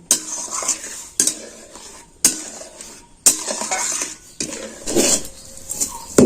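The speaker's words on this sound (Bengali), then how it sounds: "আবার এটাকে আমি খুব ভালো করে নেড়ে চেড়ে একটা সফট ডো করে নেব" Semolina and milk are stirred in a metal pan into a soft dough, with a spoon scraping and knocking against the pan in repeated strokes and a faint sizzle beneath.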